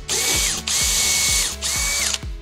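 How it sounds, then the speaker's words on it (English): A power drill runs loud and close in three bursts, drilling a pilot hole into a wall stud, its motor whining with a rhythmic low chatter as the bit bites in. "Drill our pilot hole."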